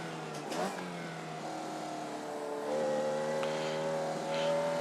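A Formula Vee race car's small 4-cylinder engine in the iRacing sim, a steady droning tone that shifts pitch and swells as it revs up, moderately loud with no voices.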